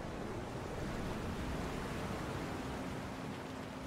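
A steady, dense whoosh of water being sucked out of an area in Final Fantasy VII Remake, with a constant roar and a faint hum running underneath, unbroken and loud.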